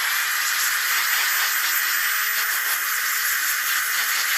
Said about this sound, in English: Take your blower.